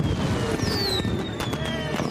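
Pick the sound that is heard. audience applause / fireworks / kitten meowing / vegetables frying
fireworks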